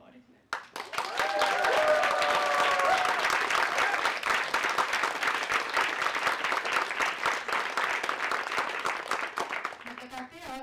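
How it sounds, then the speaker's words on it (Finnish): Enthusiastic applause from an audience at a celebration of a marriage equality law, bursting in suddenly and holding strong before thinning slightly, with a voice faintly present at the start. "Ja se Tahdon ansaitsee kyllä mahtavat aplodit."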